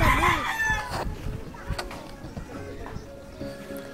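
A rooster crows loudly and close by at the very start, a single long cock-a-doodle-doo, then fades into quieter farmyard ambience with faint background voices.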